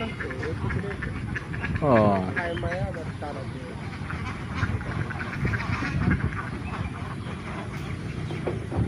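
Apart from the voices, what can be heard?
domestic geese honking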